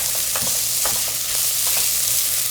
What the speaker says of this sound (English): 1 tablespoon of garlic. And you will keep on stirring.